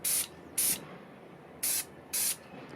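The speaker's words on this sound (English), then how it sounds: "a couple quick sprays like that with the triple thick" Acrylic triple thick sealer spray can releases four short, sharp hissing bursts in an uneven rhythm, close and loud, with quiet pauses between them.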